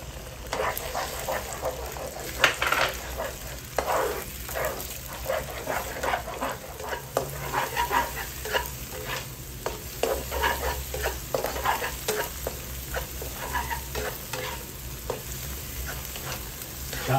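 An egg fries in a hot pan for Filipino-style fried rice, a steady close crackling sizzle broken by scraping stirs, with a dog barking faintly in the background.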